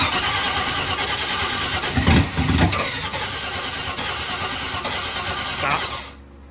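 A turbocharged truck engine cranks with a rough, churning rumble, briefly catching in a couple of louder bursts, then keeps turning over without fully running before cutting off at the end.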